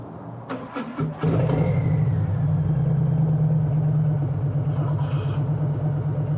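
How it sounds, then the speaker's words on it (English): A Harley motorcycle engine catches and settles into a steady, fairly quiet rumbling idle close by, with a brief rise in revs partway through. "I think it's pretty quiet for a Harley."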